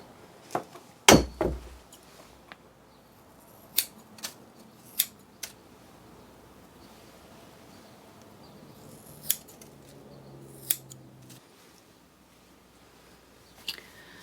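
Scissors make scattered, crisp snips while cutting hair straight across a pigtail. The cuts are close and sparse, with one louder clunk early on and quiet gaps between them.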